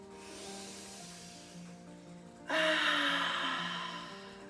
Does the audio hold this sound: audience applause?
no